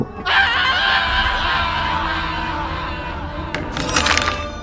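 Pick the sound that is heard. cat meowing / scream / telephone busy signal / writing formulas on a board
scream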